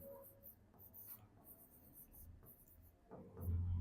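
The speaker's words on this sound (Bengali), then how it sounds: "দেখো আমি ধরো আমার নামটা লিখলাম শিশির" A name is written by hand on paper, giving soft, faint scratching pen strokes in short bursts with brief pauses between them. Quiet room tone sits underneath, and a low thump comes near the end.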